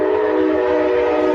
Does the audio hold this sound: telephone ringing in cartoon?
no